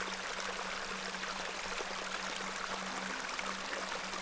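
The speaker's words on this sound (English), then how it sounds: "You see this beck before you? Look at the water. See how it tumbles and falls." A beck tumbles over stones in a steady, faint rush of flowing water that stays even and continuous, with a low hum underneath.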